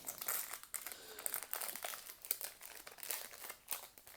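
A Pokémon Astres Radieux booster pack wrapper is pulled open, with close, quiet crinkling and crackling of foil in irregular bursts and small tearing sounds, and no one speaking.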